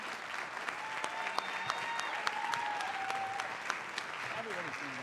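A high school audience gives warm, sustained applause after a jazz ensemble performance, dense clapping from a crowd with a few whistles and voices mixed in.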